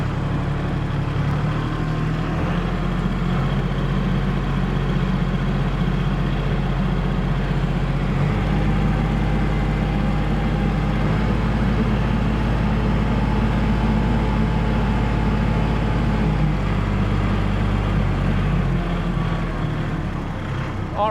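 A low, steady engine of a 2022 Kubota L3560GST tractor reversing down a driveway drones and rumbles throughout, loud and close, with no clear pauses or revving.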